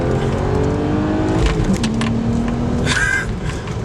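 A 2009 BMW 135i with a Dinan-tuned N54 engine revs hard after a downshift, a loud close-up engine roar rising and holding with rough intake and exhaust character, then easing off.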